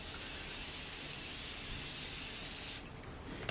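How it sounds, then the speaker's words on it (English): A steady fine mist of Morphe setting spray hisses continuously across a face for about three seconds, then stops, leaving quiet room tone; soft and close. "I'm just gonna go with my Morphe setting spray and spray my lid, or well, spray my entire face"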